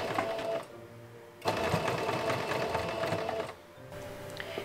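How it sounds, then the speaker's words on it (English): A sewing machine top-stitches a fabric ruffle for a cosplay sleeve, running steadily in two bursts with a brief pause between, a close mechanical whir with rapid needle chatter. "With the seams facing up, I top-stitched it"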